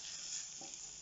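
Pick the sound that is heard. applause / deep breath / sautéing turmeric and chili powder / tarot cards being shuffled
sautéing turmeric and chili powder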